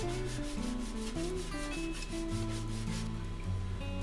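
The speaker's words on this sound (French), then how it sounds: "Un petit coup de ponçage." Sanding the fuselage of a model RC airplane, a steady, continuous rubbing and scraping of abrasive on the body that goes on without a break. It sits quietly under a faint musical background.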